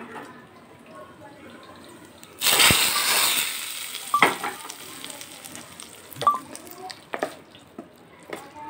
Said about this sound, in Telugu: పోపు అయితే రెడీ అయిపోయిందండి. ఇందులో వేసుకోవడమే.